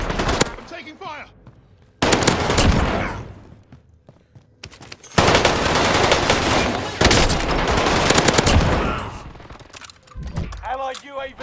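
Bursts of automatic gunfire in a shooter video game, loud and close, arriving in several long sustained volleys separated by short pauses, with the last bursts more broken.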